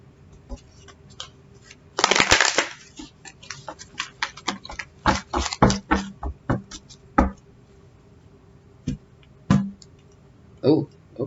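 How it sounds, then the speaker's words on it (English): Tarot cards are shuffled by hand in quick crisp riffles and scattered taps, with a louder burst early on, then softer irregular snaps and pauses, close and clear. "One more shuffle."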